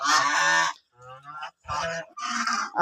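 Raja ducks give a series of loud honking calls, harsh and close, in four uneven bursts with short gaps between them.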